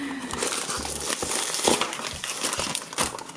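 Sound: opening a taped toy kit package

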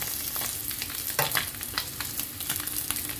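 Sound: fish frying in oil until crispy

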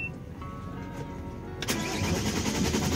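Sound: boat engine starting after fixing dashboard connection

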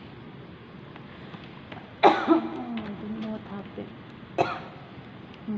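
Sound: coughing

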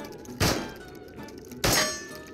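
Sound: shooting at a target in VR game Into The Radius

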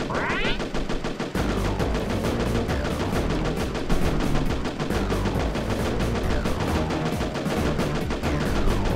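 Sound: weapons firing in video game

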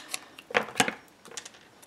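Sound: scissors cutting a scrap of paper

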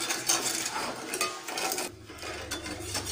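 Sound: stirring sugar syrup in pan

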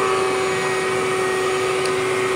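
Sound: vacuum cleaner running

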